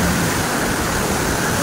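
Hagimit Falls on Samal island roars with a dense, continuous rush of falling water, loud and close, steady from start to finish with no voices.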